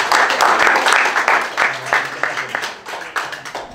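Audience applause at a workshop, a brisk wave of many hands clapping that thins into scattered individual claps, with a few voices mixed in.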